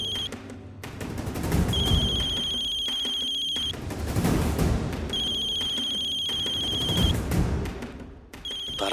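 A phone rings in repeated bright electronic bursts with short gaps between them, over loud, dense dramatic background music and effects in a Hindi TV serial scene.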